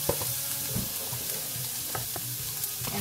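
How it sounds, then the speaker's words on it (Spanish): Onion frying in a pot for vegan burgers, a steady close sizzle with intermittent stirring scrapes and clicks throughout, no talk. "lo que vamos a hacer es poner la cebolla"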